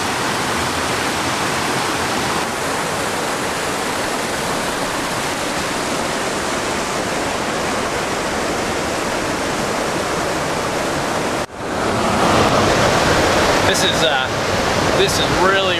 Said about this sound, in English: I don't know if you can hear the river, but it's thunderous as it roars by us.